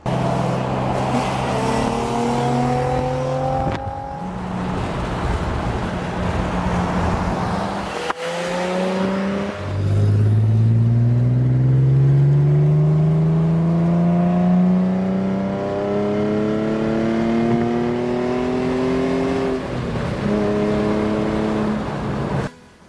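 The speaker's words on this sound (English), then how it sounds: "it's just got more of a grit to the exhaust note and engine note" A decatted Nissan 350Z Z33 engine revs up repeatedly, the gritty exhaust note rising and falling in pitch, loud and close.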